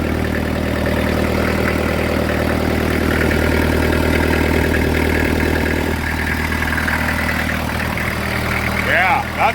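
A Thomas skid steer engine runs steadily at idle nearby, a loud, continuous low rumble with someone talking over it, and the note changes near the end as the machine is shut down.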